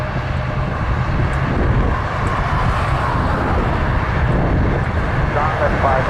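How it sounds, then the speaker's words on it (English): A De Havilland Dash 8 turboprop lines up on the runway at Toronto Pearson, its engines giving a steady, loud broadband drone with low rumble throughout, while faint voices murmur underneath. "Another Dash 8 lining up. This one's going to Windsor."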